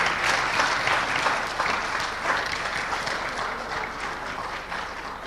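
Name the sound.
audience applauding to welcome guests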